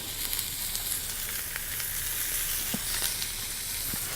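Butter sizzles in a pan with mushrooms and bok choy, a dense, steady crackling hiss with scattered small pops, close and constant, with no one talking.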